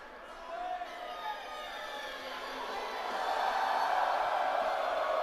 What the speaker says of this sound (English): Wow, listen to this crowd, people.